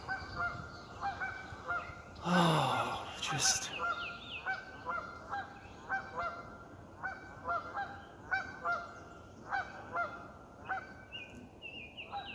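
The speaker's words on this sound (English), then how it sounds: "Honk, honk, honk." Geese honk repeatedly outdoors during a nature walk, with a rhythmic series of nasal, moderately distant calls after a brief louder burst and a few words from a person.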